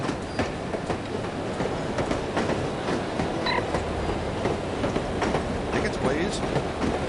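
A steady, loud rumble from a moving train in No One Lives Forever runs through the whole stretch, with rhythmic clacking from the rails, faint tonal squeaks, and indistinct voices mixed in.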